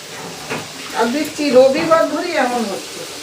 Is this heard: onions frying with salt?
yes